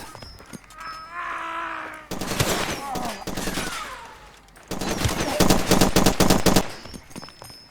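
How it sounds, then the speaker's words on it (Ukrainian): Machine gun fire in the shooter game Far Cry 2 comes in loud, rapid bursts that stop and start unevenly as the gun jams, with game sounds and some vocal noise between the bursts. "Невчасно вже заклинювати почав мене цей кулемет"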